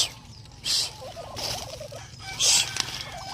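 Turkey hens calling on a farm, a few nearby gobbling and clucking notes over a low steady background hum, with no talking.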